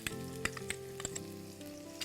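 Chopped onion sizzles in hot oil in a pan, a steady quiet crackle with scattered pops, heard alone with no talk.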